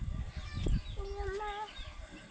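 Chicks peep in a few short, high rising chirps at close range, with low rustling and a hen clucking underneath, then fading into quiet farmyard background.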